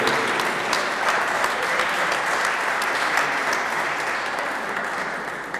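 An audience at a winter piano, violin and viola concert at the Prosecco Classic Festival applauds in steady, dense clapping that fades slightly toward the end.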